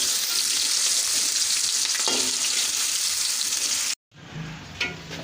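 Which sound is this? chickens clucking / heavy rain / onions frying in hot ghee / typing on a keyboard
onions frying in hot ghee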